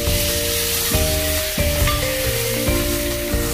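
Garlic sizzling in melted butter in a pan that just fried salmon, a steady close frying hiss with brief stirring clatters, no talk.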